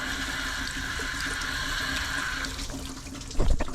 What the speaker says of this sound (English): We got water going through.